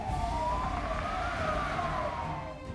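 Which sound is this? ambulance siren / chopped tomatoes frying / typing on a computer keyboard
ambulance siren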